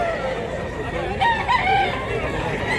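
A white hackle gamecock crows close by, a single drawn-out cock-a-doodle-doo with clucking around it, over light background noise.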